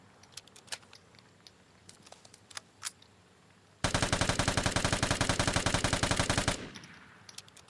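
Sustained burst of automatic L86 rifle fire in the video game Vigor, a loud rapid stream of shots lasting nearly three seconds after a few quiet clicks and taps, then stopping abruptly; no speech.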